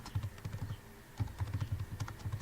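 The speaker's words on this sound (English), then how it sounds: "let's type the name" Rapid, irregular keystrokes on a computer keyboard, close and fairly quiet, in short bursts with a brief pause midway while a name is entered.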